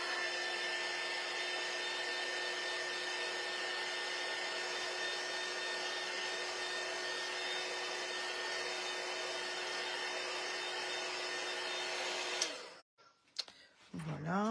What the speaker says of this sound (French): sécher un petit peu mon papier avec le pistolet.